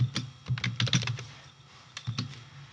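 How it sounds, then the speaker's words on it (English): Keys clacking on a computer keyboard as text is typed, a short uneven burst of close taps, a pause, then a few more strokes. "You type your text in there."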